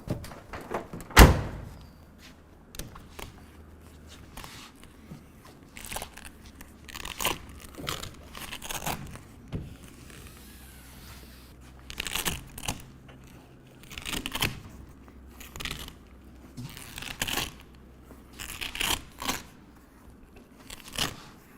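Velcro strips pressed and fastened along the sides of a TruXedo Pro X15 soft roll-up tonneau cover with T-slot rails, giving a run of short crackly rips and presses with one loud close burst early on. No talking.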